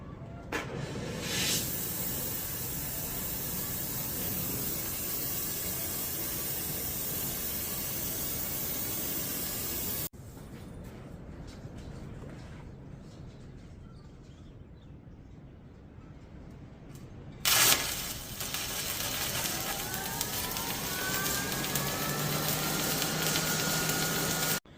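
Arc welding a cast iron part for a 1951 Farmall Cub: a steady, close, crackling hiss, a quieter stretch partway through, then the loud sputtering arc resumes, with no talking.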